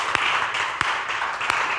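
A church congregation applauding during a worship service, a steady wash of many hands clapping together with a few sharper claps standing out.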